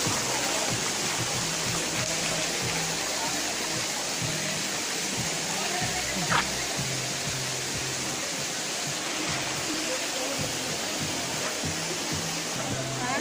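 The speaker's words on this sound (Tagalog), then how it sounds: "Takas ng tubig." Cold water from a mountain stream rushes steadily, a broadband hiss that stays even and loud throughout, with faint voices talking underneath.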